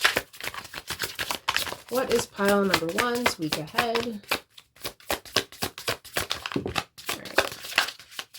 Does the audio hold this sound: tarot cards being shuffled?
yes